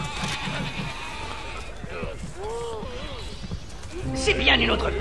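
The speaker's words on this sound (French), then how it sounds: "Allez, mouton." Sheep bleat in the video game Overlord, a short wavering animal cry heard mid-clip amid busy game sounds and footsteps, while someone talks over it.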